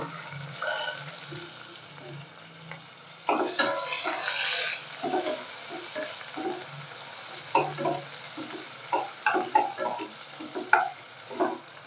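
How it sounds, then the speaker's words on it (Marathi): Thinly sliced onion sautéing and being stirred in a pan for black ghevda masale bhat, with scraping stir bursts and a soft sizzle rising and falling across the clip, no talk. "त्यानंतर घालूयात आपण हा कांदा जो चिरून घेतलाय बारीक पातळसर असा उभा"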